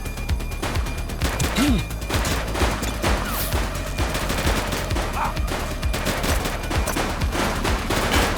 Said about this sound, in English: Light them up! Shots fired!